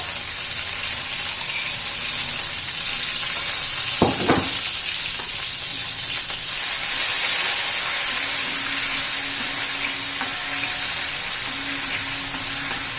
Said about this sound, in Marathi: जिरी मोरी तडतडली की आपण लसूण आणि मिरचीचा ठेचा केला ना तो घालून घ्यायचा